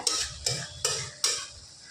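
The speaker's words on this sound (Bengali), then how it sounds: "দেখুন মামনি বড়িটা ভালোভাবে মিশিয়ে নিল" Spinach with lentil dumplings (bori) is stirred in a pan over a medium gas flame, making four slow, rasping scrapes about half a second apart over a soft sizzle, close and clear, with no voices.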